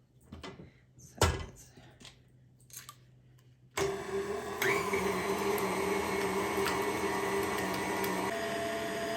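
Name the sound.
mixing sugar and other ingredients in a bowl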